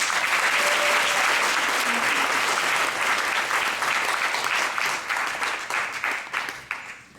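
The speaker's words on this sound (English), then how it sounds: "give a round of applause for our director" Auditorium audience at a dance debut performance (Manch Pravesh) giving sustained applause, a thick roar of many clapping hands that holds steady, then thins and tapers toward the end.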